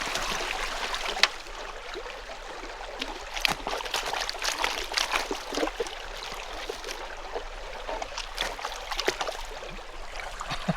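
Stream water flows steadily through a gold sluice site, a continuous close hiss and babble with small splashes and no talk.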